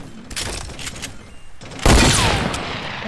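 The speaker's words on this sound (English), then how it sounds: "we're getting sniped" Sniper shots in Fortnite, a sharp loud crack landing near the end after quieter scattered shots and game noise earlier, with no talk over it.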